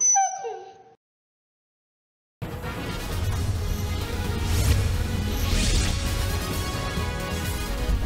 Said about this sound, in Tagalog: kilalanin si Theo, ang nagsasalitang aso.